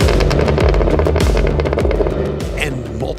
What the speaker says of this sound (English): multiple gunshots are exactly what the Cadillac Escalade V's exhaust sounds like